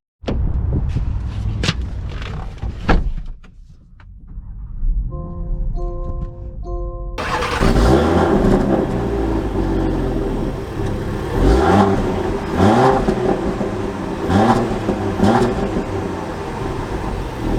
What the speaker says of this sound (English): let's take her out and see how she drives.